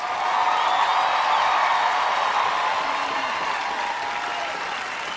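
A studio audience at a duo performance competition applauds and cheers steadily, a dense sustained roar of clapping with no break.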